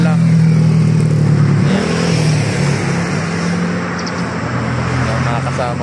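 A small group of six motorcycles rides steadily along a road in Tiaong, Quezon, their engines droning loud and close the whole way, with someone talking over the engine noise.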